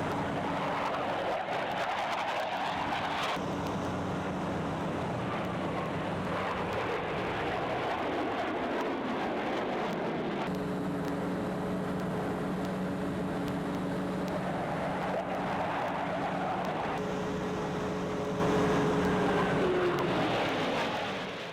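U.S. Navy Blue Angels jets roar past at an air show in a continuous, loud rush of engine noise that swells and fades across the whole stretch, with a louder surge near the end.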